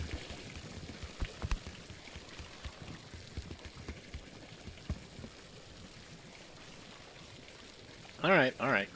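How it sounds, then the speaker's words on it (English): Liquid pouring out of a barrel in Untitled Goose Game: a continuous splashing stream of water with scattered drips. A voice is heard, and two loud bursts come near the end. "pay attention to the pouring liquid coming out of that barrel"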